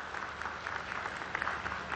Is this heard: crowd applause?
yes